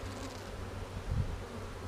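A low, steady buzzing hum of many honeybees in a hive, continuous throughout with a slight swell near the middle, fairly quiet and close.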